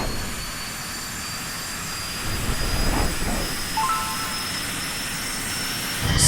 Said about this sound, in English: Dassault Mirage 2000.